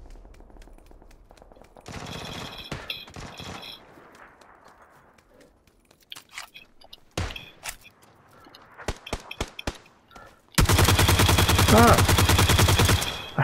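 PUBG gunfire rattles in scattered single shots and short bursts, close and loud, ending in a sustained heavy volley; a player shouts briefly between them.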